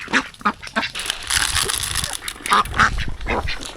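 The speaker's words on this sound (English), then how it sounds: "now we gotta feed our little ducklings" Little ducklings on a farm quack repeatedly in short, loud, close bursts, several overlapping calls with brief gaps between them and no talk.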